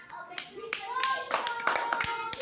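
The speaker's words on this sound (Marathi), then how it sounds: "टाळ्या वाजवा चला." Children in a classroom clap after a poem reading, with scattered sharp claps that thicken into a short round of applause. Voices talk over them throughout.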